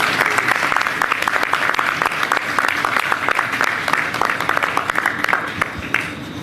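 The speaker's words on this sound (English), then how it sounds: "give Lily a big round of applause" A crowd claps continuously at a NYC Ferry route launch event, dense and fairly loud, fading slightly toward the end.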